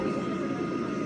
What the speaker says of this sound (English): I can see an airplane.